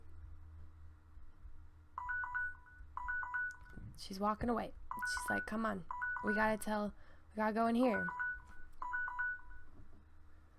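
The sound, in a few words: alarm going off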